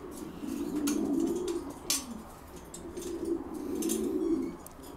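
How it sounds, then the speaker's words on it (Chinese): A breeding pair of Sowie-bloodline pigeons gives two clear cooing phrases, each a rising and falling throaty roll, close and fairly quiet, with a soft pause and light clicks between them. "这两只鸽子是苏维血统鸽，在他家里面是专门育种用的。"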